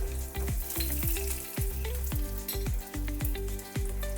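Garlic, peanuts, dal and curry leaves sizzle and fry in a pan for a spicy green-chili thecha, a constant loud crackle broken by repeated rhythmic scraping strokes of stirring, with no voices.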